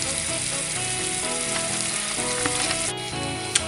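Sugar and water cooking into caramel in a pan, a dense, steady bubbling sizzle close up, loud and unbroken, with a brief sharper clink near the end.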